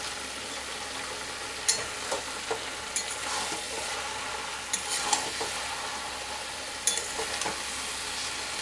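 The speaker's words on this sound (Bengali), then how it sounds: "আমি এই অবস্থায় দিয়ে দেব ডাল, যে আমি মুসুরির ডালটা নিয়েছিলাম ওটা দিয়ে দেব।" Masoor dal going into half-cooked jackfruit in a pot, heard as a quiet steady sizzle with a few sharp scrapes and clatters of a spoon against the pot; no talking.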